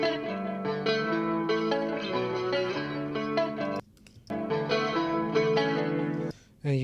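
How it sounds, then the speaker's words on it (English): A picked electric guitar plays a bright, ringing melodic line with harmonies and effects, stopping briefly twice before continuing. "So the pick guitar sounds like this."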